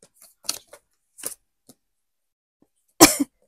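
Several short, sharp coughs come in a scattered sequence, with a louder, fuller cough near the end, and quiet gaps between them.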